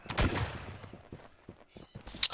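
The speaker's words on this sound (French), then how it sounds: "Il y a un Allemand qui a tiré un coup de feu." A gunshot fired by a German soldier in a roleplay video game, a sharp burst near the start followed by fainter cracks and scuffling noises over a couple of seconds.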